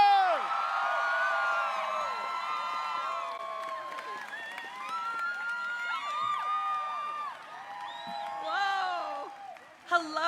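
A large crowd at a political rally in Sacramento cheers, whoops and applauds for Jane Sanders, with many overlapping shouts and steady clapping that run loudly for about ten seconds.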